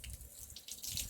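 Water from a spring on a hillside climb flows and splashes in a faint, uneven trickle. Small bursts of spatter rise and fall, and no one speaks.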